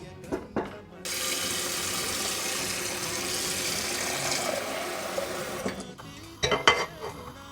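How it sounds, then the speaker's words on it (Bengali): Water from a tap or jug runs steadily for several seconds into modak dough in a kitchen, a continuous close splashing stream framed by brief clinks and handling noises before and after. "আমি অল্প আর একটু জল দিয়ে দিচ্ছি।"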